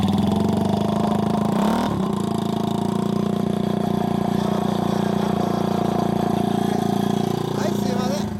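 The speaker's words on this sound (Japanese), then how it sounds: "エンジン音聞かせてもらえる？" A 2006 Harley-Davidson Sportster XL883R engine with a Screamin' Eagle exhaust idles with a deep, steady rumble, briefly blipping the throttle early on and again near the end.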